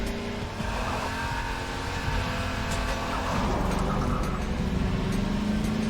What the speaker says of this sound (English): This is a buggy. This is not a car.